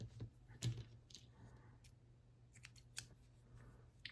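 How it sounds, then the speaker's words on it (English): Several quick, faint scissor snips cut orange yarn during a crochet project, crisp isolated clicks spaced over a quiet background. "you can snip your orange yarn"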